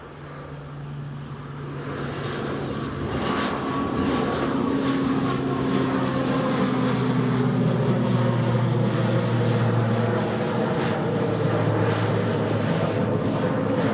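Air Transat airliner rolling at Glasgow Airport, a steady low engine roar with droning tones that builds over the first few seconds and then holds loud and continuous.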